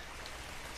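Steady rain hisses evenly in the ARK: Survival Evolved game world, a continuous soft patter without other sounds in this short stretch.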